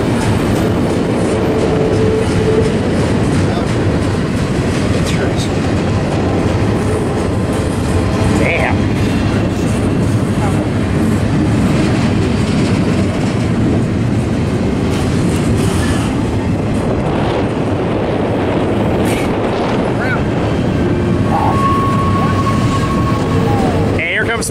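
Long freight stack train carrying double-stacked containers rolls past near the tracks, a continuous loud rumble with wheel clatter and brief squeals, while people talk nearby.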